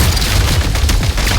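A frag grenade explodes in a combat game set in Genshin Impact's Snezhnaya region, a loud, dense booming burst that rumbles steadily through the short stretch with no quiet gaps.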